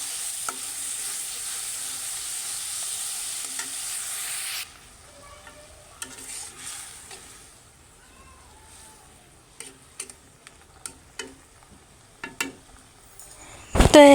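Shrimp curry sizzling in a pan, with a loud steady hiss for about four and a half seconds that then drops to a quiet simmer broken by scattered clinks and taps, ending in a sharp clatter.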